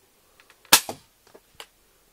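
A Nerf Maverick toy blaster fires once with a sharp, close snap and a quick secondary pop, surrounded by faint plastic clicks of handling and cocking. No one speaks.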